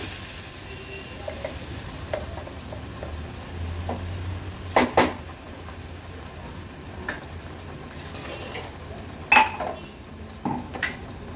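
Ground masala paste with onions is stirred in a pan with oil, giving a soft, low, continuous sizzle, broken by a few sharp clinks and scrapes of a spoon against the metal.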